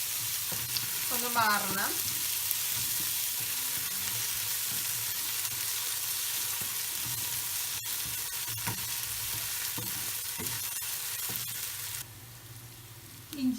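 Ginger and garlic sautéing in a pan for a chicken roast, a steady close sizzle running throughout with occasional scrapes and taps of a spatula, briefly quieter near the end; a voice speaks a few words early on.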